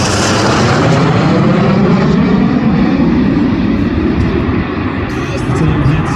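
Display team jets at the Midlands Air Festival climbing skyward in formation, a loud sustained broadband roar that holds steady throughout, with faint voices mixed beneath.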